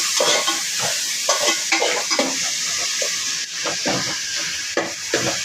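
Ground onion and tomato sauté in a pan for a white fish curry, with a loud, close sizzle and frequent rhythmic scraping strokes of a spoon stirring throughout.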